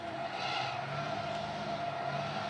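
Tires of a Nissan 370Z sliding and squealing in a racing video game, a sustained close skid with steady engine drone underneath.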